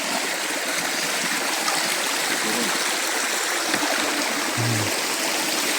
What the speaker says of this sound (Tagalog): Magdaan kami nitong mga sapa-sapa.